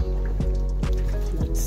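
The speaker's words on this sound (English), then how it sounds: "So now I'm going to add my meat, beef meat, all the meat in here," Beef and assorted meats go into hot stew oil for a Nigerian stew, giving a steady close sizzle with wet squishy thumps as pieces drop in roughly every half second.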